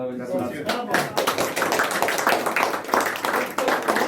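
A group claps in a dense, steady patter of applause, close by, with voices talking over it, at a ceremony where a champion donates his first jersey to a local museum room.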